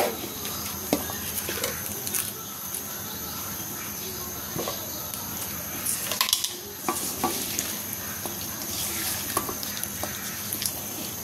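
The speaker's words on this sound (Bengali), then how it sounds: "এটা আমি এখন হাতের সাহায্যে খুব ভালো করে মেখে নিব।" Raw chicken being kneaded by hand with soybean oil in a bowl, wet squelching and soft slapping with occasional clinks of metal utensils, steady and close under a faint high background hum, no talking.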